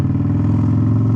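A motorcycle engine revs steadily up close as the throttle rolls on gently in second gear after a clutch release, a loud continuous low harmonic drone with no talking.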